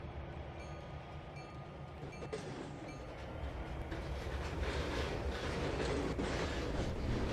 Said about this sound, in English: We're going to have to move that train.